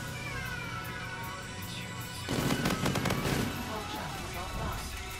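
A launcher weapon in a video game fires midway, as a cluster of rapid, crackling blasts rising over steady game background sound and then fading.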